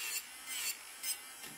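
A nail file rasps across a fingernail in loose, uneven strokes, three main bursts of dry scraping with a fainter fourth, close and quiet with no voice over it.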